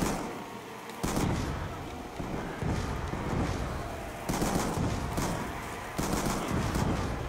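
Rapid, continuous gunfire from a zombies video game, loud dense bursts repeating over several seconds with brief shifts in intensity, with no clear speech over it.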